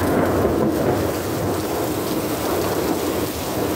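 Heavy rain pours steadily during a severe late-night thunderstorm, with a continuous rumbling roar of thunder underneath, loud and close throughout with no speech.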